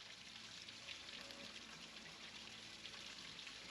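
Faint, steady rush of water spraying from a garden hose on a reel, a continuous hiss with no voices, after a kink at the reel connection was cleared.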